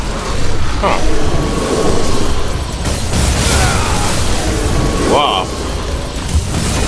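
Explosions in the video game Devil May Cry 5 make a dense, continuous roar of booms and bursts over loud game audio, while a player briefly voices surprise.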